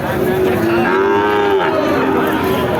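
A Sahiwal calf gives one long, loud, drawn-out moo at a cattle market, close by and alone.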